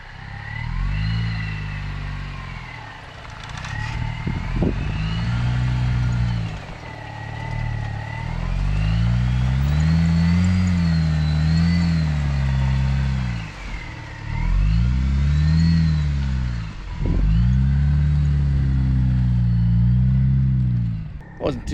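A supercharged Jeep Wrangler engine revs and accelerates in repeated loud surges, rising and falling in pitch with short gaps between pulls, heard close from inside, with a person talking over it.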